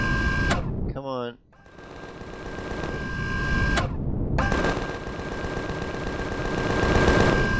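Gunfire in the Empyrion survival game: rapid bursts of automatic fire with a brief gap and a warbling electronic effect, then steady, loud shooting resuming for the rest, with a voice talking over it.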